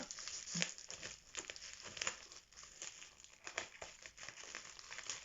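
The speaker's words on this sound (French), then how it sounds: "Enroulé de papier bulle." Close, steady crinkling and crackling of bubble wrap being unrolled, with scattered louder pops and rustles throughout.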